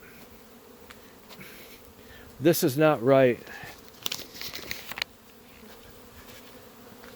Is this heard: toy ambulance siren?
no